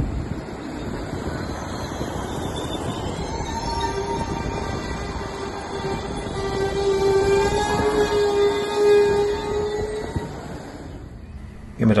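A train rolls through Stolberg (Rheinland) station on the Cologne–Aachen line, with a loud, sustained rumble and long, rising metallic wheel squeals that build over several seconds, close by and continuous.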